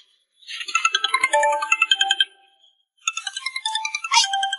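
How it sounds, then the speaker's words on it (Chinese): A mobile phone rings with a bright, repeating electronic melody in two bursts separated by a short pause, loud and close, with no voices over it. "哥，是潘丽姐的电话"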